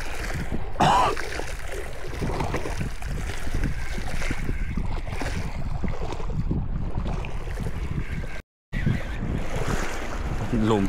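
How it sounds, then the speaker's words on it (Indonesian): Strong wind gusts roar across the microphone as waves wash against the shore of Pulau Rimau, an island used for shore-based jigging. The rushing noise is loud and continuous, with a brief dropout near the end. "Angin kuat ini."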